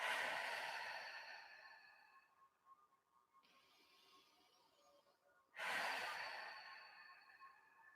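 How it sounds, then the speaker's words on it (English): Slow, deep breaths during a guided meditation, close and soft. Two long airy inhales or exhales about five seconds apart, with quiet room tone between them and no talking. "Breathing down right into the chest, right into the lungs. Nice deep breaths."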